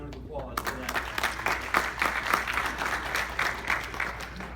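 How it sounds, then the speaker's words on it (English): Moderately loud applause from a reception crowd at a President's Reception and Hall of Fame event, starting abruptly after a quiet moment and carrying on as an uneven, steady clatter of clapping over a low room hum. "give them a round of applause for that"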